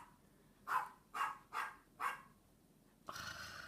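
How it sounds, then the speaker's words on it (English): A dog barks four times in a steady rhythm, moderately close but fairly faint, followed by a brief burst of rustling noise, with no talking. "dog's barking."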